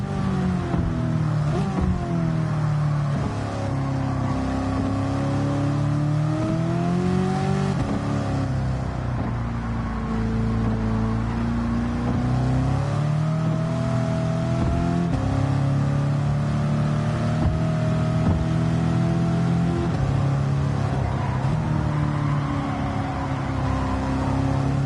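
A race car engine in a video game accelerating hard down a straight, its loud, steady whine climbing in pitch as it goes.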